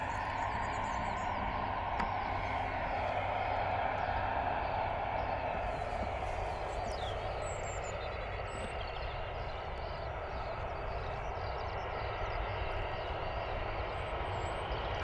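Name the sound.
EasyJet Airbus A320 airliner arriving to land at Bristol Airport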